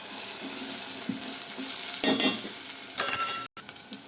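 Onions, curry leaves, green chillies and ginger fry in hot oil, crackling and sizzling steadily, with a brief louder burst of spitting near the end and a short gap of silence.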